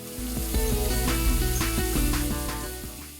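Chorizo sausages sear in a hot pan with a loud, continuous sizzle and frying crackle, while a few faint knocks from turning them come through the spattering. No voices.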